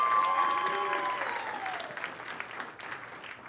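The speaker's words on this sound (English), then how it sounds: "We would like to give a warm round of applause for Caitlin with New Crew." An audience at a startup pitch event applauds for a presenter, a warm round of clapping that fades as it goes, with a tone sounding briefly at the start.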